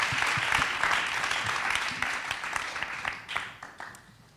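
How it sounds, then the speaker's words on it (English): An audience at an artist's talk applauding the speakers, steady dense clapping that holds strong and then gradually thins and fades as it dies away. "Can we give our speakers a round of applause"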